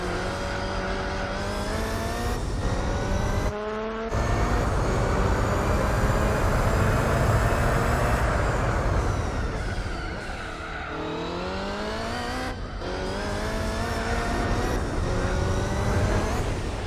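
Race car engine in Gran Turismo 4 droning loudly and steadily, with pitch climbing through the gears, a brief cut near the fourth second, then falling and rising again with gear shifts.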